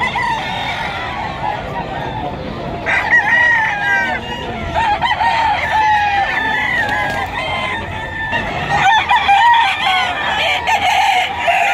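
Roosters at an early morning pet market in Bocaue, Bulacan, crow repeatedly and cluck close by, overlapping calls rising and falling above a busy background murmur of people.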